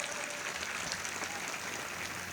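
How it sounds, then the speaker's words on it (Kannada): Audience clapping at a public talk in Kannada, a broad, even wash of applause from a crowd that holds steady throughout without any speech over it. "ಹೊಡ್ರಿ ನಮ್ಮ ಜೋರಾಗಿ ಚಪ್ಪಾಳೆ ಅಂತ ಹೆಣ್ಮಗಳಿಗೆ."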